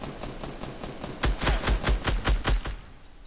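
Rapid automatic gunfire in the video game Fortnite: a tight run of about ten loud, punchy shots fired in quick succession, then fading into quiet.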